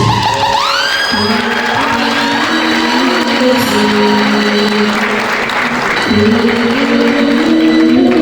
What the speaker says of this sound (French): Est-ce qu'on peut faire le maximum d'applaudissements pour Lace?